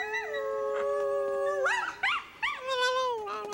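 A voice mimics a coyote, a long sustained howl followed by several rising yips, close and clear with no speech.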